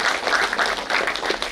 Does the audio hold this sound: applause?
yes